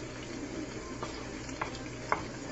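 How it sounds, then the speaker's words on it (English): A wooden spoon stirring a meat and potato casserole in a pot, with a few soft scrapes and taps over a steady low sizzle of cooking food. "I'm using a wooden spoon, you know, my magic kitchen wand"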